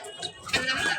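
Guinea fowl on a farm give a short, harsh, rasping call that swells in the second half, close by and moderately loud.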